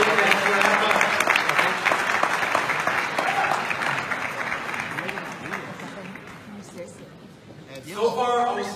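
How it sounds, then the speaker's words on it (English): An audience at a OneCoin stage event in Paris claps loudly and steadily, the applause gradually thinning and fading over several seconds, with a voice and other stage sound heard near the end. "So big applause for you guys."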